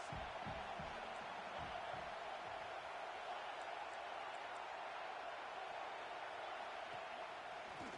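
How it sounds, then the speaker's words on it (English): Loud stadium crowd noise in a football video game on fourth down, Texas at Tennessee, a dense continuous roar holding steady throughout with no voices on top. "this crowd is making it miserable on this offense"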